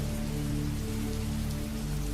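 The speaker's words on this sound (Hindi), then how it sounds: "एक बारिश की रात, तेज बारिश" Heavy rain pours down in a dense, continuous hiss with a low rumble beneath it, loud and unbroken throughout.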